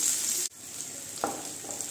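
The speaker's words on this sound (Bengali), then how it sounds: "পেঁয়াজগুলো হালকা একটু ভাজা হবে" Onions sizzle in hot oil in a pan for a Bengali masala khichdi, a close, continuous fry with a brief break and a couple of soft stirring scrapes as the sizzle resumes.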